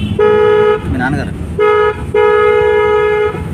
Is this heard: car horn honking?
yes